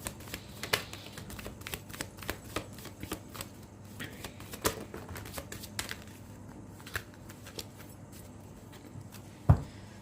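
Tarot cards shuffled by hand at close range, a quiet run of soft riffling flicks and taps repeating steadily, ending with one sharper knock, with no voices.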